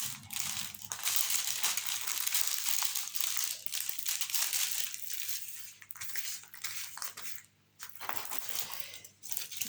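Protective paper on a diamond painting canvas crinkles and rustles as it is handled and repositioned, with continuous close crumpling broken by a few brief pauses.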